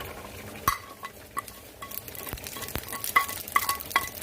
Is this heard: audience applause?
no